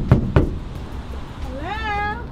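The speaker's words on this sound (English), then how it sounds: "Let's go bang on their door." Two sharp, close bangs on the door of a camper van land in quick succession, followed by a rising, wavering voiced call.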